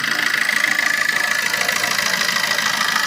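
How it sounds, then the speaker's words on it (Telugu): A diesel car engine idles steadily and evenly, a continuous hum with no talking. "ఒకసారి ఇంజన్ కూడా ఎంత సైలెంట్ ఉందో చూసుకోవచ్చు"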